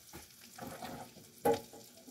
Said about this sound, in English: It's layered, and I just put it in the pan.